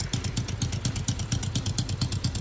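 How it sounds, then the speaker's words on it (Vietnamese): A new Honda Jincheng 110cc two-clutch motorcycle engine idles on test, ticking over in a steady, even, close-up putter with light mechanical clatter. "test nổ máy nổ cực êm luôn"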